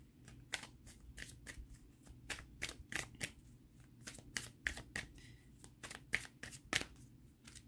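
Tarot cards being shuffled and drawn, a quiet, close run of crisp riffling snaps and flicks at an irregular rhythm, with no voice.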